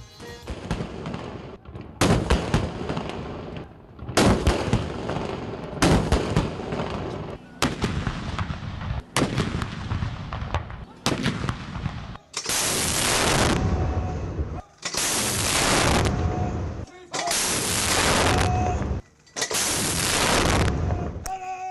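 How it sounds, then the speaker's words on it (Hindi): Ceremonial 31-gun cannon salute in Islamabad: heavy, booming blasts fire one after another at roughly two-second intervals, loud and echoing, with no talking. "आज दिन का आगाज जो है वो तोपों की सलामी से हुआ।"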